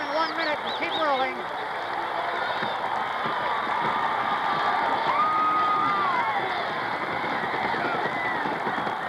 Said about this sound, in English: there you see a sellout crowd, probably the largest in the history of football here in Norman, Oklahoma